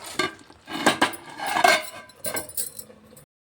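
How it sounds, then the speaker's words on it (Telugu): Metal cookware clatters and clinks as a lid goes onto a pot of Andhra-style stuffed brinjal masala curry, several short close knocks and scrapes over about three seconds. "మూత పెట్టుకొని"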